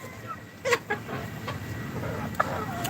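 Pakistani chickens on a farm that also keeps Australian and local breeds cluck in a few short calls over a steady outdoor background, moderately close.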